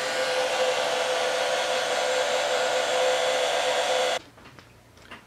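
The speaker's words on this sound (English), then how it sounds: "no worries helping it out with a hair dryer" A hair dryer on low heat blows steadily and fairly loudly for about four seconds while drying a thin coat on a handmade caterpillar craft, then cuts off abruptly, leaving faint handling noise.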